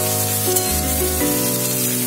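Potatoes sautéing in hot oil for Bengali chicken kosha give a loud, continuous close sizzle, with a steady hum running underneath throughout.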